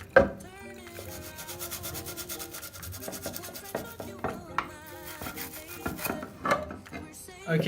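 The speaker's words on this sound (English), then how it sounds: "I'm really scrubbing hard and getting nothing out" Hard scrubbing of dried urate on a reptile enclosure surface, a close rhythmic rasping rub repeating in quick strokes with scattered sharper scrapes, no talking.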